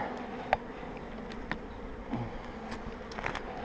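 Honey bees in an opened hive give off a soft, continuous buzzing hum, broken by a few brief clicks and knocks from the frames close by.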